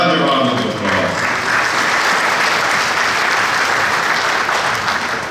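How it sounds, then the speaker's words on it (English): Audience at a gala applauding, a dense, steady wash of many hands clapping from start to finish with no break. "you deserve another round of applause."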